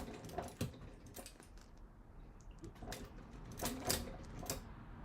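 A sewing machine stitches slowly, one stitch at a time, across a bulky bag gusset, giving faint irregular mechanical clicks and thumps close by with soft handling noise between.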